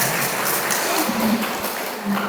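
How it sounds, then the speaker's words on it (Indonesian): A crowd at an Indonesian Independence Day religious talk breaks into a steady wash of applause, fairly loud and continuous for a couple of seconds, with no clear voices over it. "Tepuk tangan semuanya."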